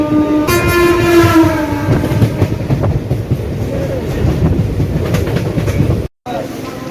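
The 12337 Shantiniketan Express sounds a loud horn at a platform, then its wagons roll past close by with a steady rumble and rail clatter.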